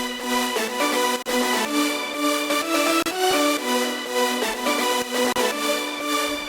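Three stacked Serum synth layers play a bright, dense chord progression, loud and continuous with brief dips between chords, no voices.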